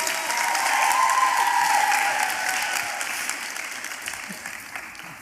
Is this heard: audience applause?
yes